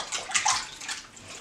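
A small wind-up or battery swimming toy churns through a bowl of water, splashing and sloshing continuously and close by, with no voices.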